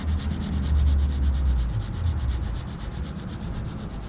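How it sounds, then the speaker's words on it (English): Sandpaper rubs by hand across a scratched plastic tail light lens in quick, even back-and-forth strokes, a close, steady rasping with a regular rhythm. "we're just going to by hand try to take out the worst of these scratches and then feather it out with a finer grit of sandpaper"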